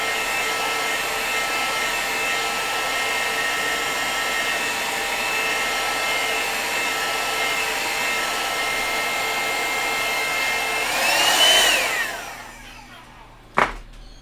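A hair dryer blows steadily to dry paint on a painted miniature, a loud, even whoosh that swells near the end, then shuts off and winds down, followed by a single sharp click.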